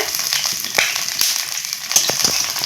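Pieces of soybean paturi fry in hot oil, sizzling and crackling with sharp pops and spatters scattered over a constant hiss, close by.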